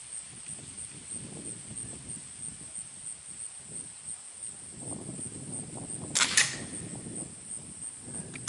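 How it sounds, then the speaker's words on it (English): A Diana Trail Scout air rifle fires into a paper target outdoors: one sharp, brief crack stands out partway through against faint, low background rustle. "So I'll put a couple more shots in that paper target."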